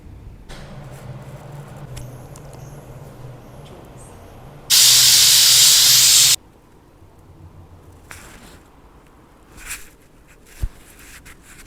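Pressure cooker boiling eggs on a kitchen stove gives a sudden loud, steady burst of steam hissing that lasts about a second and a half over a low background hum, followed by a few faint clicks and knocks.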